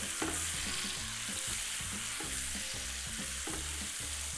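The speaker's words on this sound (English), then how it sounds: "I am adding the onions to the mix and we're gonna cook it until it's nice and softened, lightly golden, kind of translucent" Chopped onions sizzling in bacon fat in a frying pan, a steady crackling hiss with regular stirring scrapes repeating every half second or so, close and clear.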